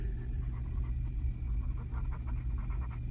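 A pen outlines a snowman shape on paper in a run of soft, irregular scratching strokes, close and continuous over a low background hum, with no speech.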